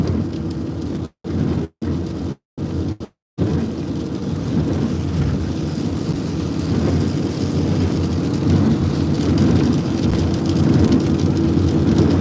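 Steady rain and rumbling thunderstorm noise during storm chasing in southwest Kansas with lightning nearby, a broad continuous roar that swells louder over the clip after a few brief dropouts near the start.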